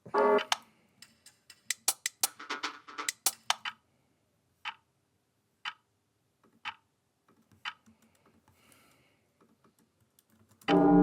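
A sampled clock in a minimal drum and bass production ticks in sharp, isolated clicks, first in a quick cluster, then sparse evenly spaced ticks over near silence.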